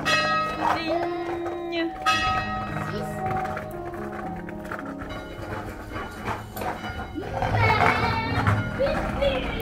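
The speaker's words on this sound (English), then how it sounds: "This is good because we always know what time is it when we hear the bells." Church bells ring in a French village near Monaco, with tones rising over steady background music and a voice, fairly loud and continuous throughout.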